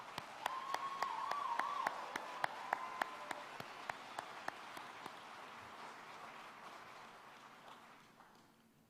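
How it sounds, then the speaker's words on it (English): Applause for police academy graduates at a graduation ceremony rolls on steadily, with a few sharp distinct claps standing out over a softer crowd wash that fades near the end. "Let's give these graduates another round of applause."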